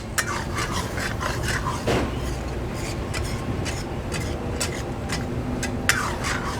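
A spoon scrapes and stirs steadily as cream is mixed into chicken karahi in a pan, giving continuous close scraping and clinking with a soft sizzle beneath it.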